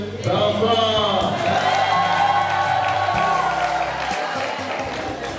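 An audience cheering and applauding for the children at a gathering about baby visits and pregnancy care, a loud dense crowd sound mixed with music and voices.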